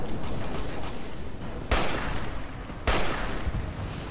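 Gunfire in the Fallout New Vegas game: a steady crackle of shots with two sharper, louder bursts that stand out, close and dense, with no voices.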